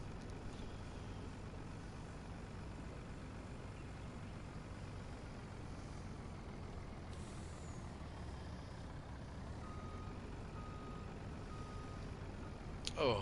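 A truck drives in the Farming Simulator 19 video game, a steady low engine rumble throughout, with a brief air-brake hiss and a faint beep near the end.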